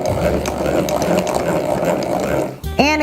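Hand-crank butter churn turning as the cream thickens, a steady close whirring, sloshing mechanical rumble that runs almost the whole time before cutting off abruptly, followed by a brief sharp squeak.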